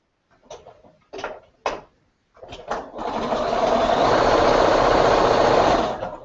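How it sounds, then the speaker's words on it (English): A few clicks and bumps of fabric handling give way to a sewing machine stitching a quilt square, a steady close whirring hum for about three seconds before stopping. "now we're just going to sew her together"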